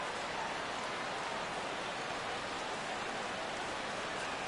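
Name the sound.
rain falling at ballpark in video game MLB The Show 16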